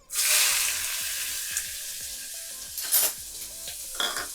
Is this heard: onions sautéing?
yes